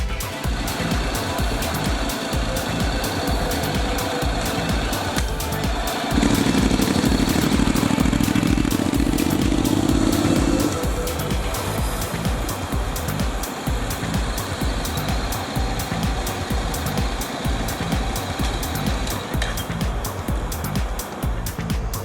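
Honda NC700/NC750 motorcycle engine rumbling steadily as the bike rolls down a driveway toward the street, swelling louder for a few seconds midway before easing back to a continuous running drone.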